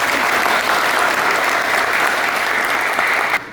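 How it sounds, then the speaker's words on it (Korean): A crowd at the inauguration ceremony of a city tennis association president claps in a loud, dense, sustained wave that cuts off near the end. "대린 여러분께 심찬 박수 부탁드립니다"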